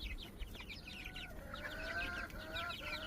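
Young chickens from a first backyard hatch cluck and chirp close by in a continuous, overlapping chatter of high, warbling calls with no pauses.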